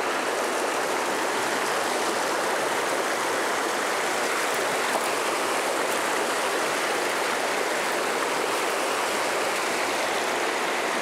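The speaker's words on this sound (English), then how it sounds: "Like that whitewater." Whitewater in a Virginia trout stream, a steady loud broadband rushing of water, close and continuous, with no talk.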